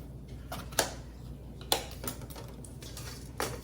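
A knife slices an apple in half on a cutting board after peeling and coring, with two sharp, close knocks spaced about a second apart and a fainter third tap, over low background hum.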